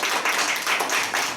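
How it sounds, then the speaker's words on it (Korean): A seated audience at a political talk festival claps steadily to welcome a guest, a brief continuous burst of many hands close by. "박수로 맞이해 주시기 바랍니다."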